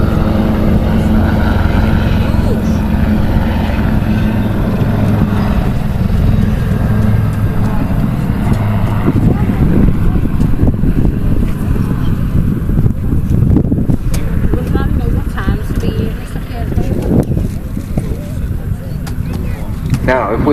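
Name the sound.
aircraft flying at Southport air show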